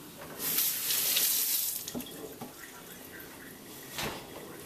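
A tap runs into a kitchen sink while hands are washed, with a steady hiss of water, a louder gush early on and scattered splashes and drips that swell again near the end.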